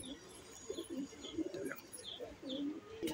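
A Madrasi lalpotiya pigeon on a rooftop coos in soft, low, repeated throaty bursts, nearby, with faint higher chirps from other birds in the background.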